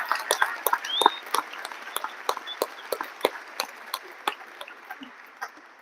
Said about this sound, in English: So give yourself a good round of applause.